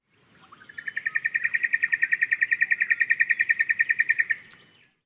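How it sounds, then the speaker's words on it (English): A single bird sings its dawn song in central New South Wales, a long, loud, steady run of rapid identical notes that swells and then cuts off, close and clear over faint background. "they have different dawn songs in each population of birds"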